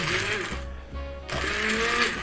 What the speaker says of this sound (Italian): con un frullatore ad immersione frullate il tutto